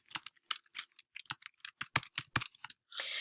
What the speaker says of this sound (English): So I'm going to type example sentence.